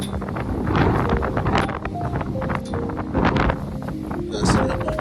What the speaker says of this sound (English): Right over here, witnessing this wind actually going.